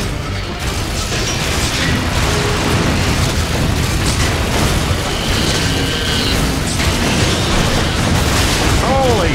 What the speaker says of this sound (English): There's some explosions going on, everyone.